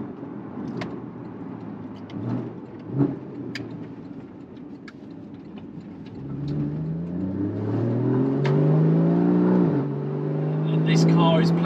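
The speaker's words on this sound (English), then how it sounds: "It's quite raucous actually with the switchable sports exhaust" A Porsche Cayman with a switchable sports exhaust revs up and holds a raucous, rising engine note close by, with some talk over the quieter start.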